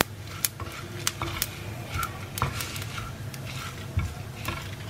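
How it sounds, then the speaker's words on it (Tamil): Spices and grated coconut dry-roasting in a pan over low heat for a spicy chicken masala, with a spatula stirring and scraping in irregular clicks and soft sizzles against a steady low hum. "வாசம் வர்ற வரைக்கும் வறுத்துக்கோங்க"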